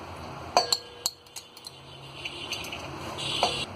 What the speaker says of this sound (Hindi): तो यहाँ हमने ये चावलों को चम्मच से अच्छी तरह दबा दिया है।